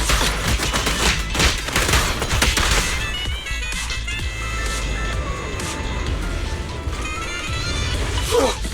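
Rapid gunfire in the action game Zenless Zone Zero, a dense volley of shots in the opening seconds that fades into a softer, busy background of combat effects.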